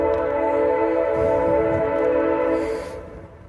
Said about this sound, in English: There's definitely a Union Pacific, like train yard or whatever out that way.